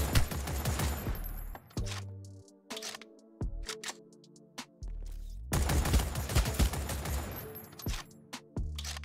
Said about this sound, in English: Oh my god, what a shredder gun.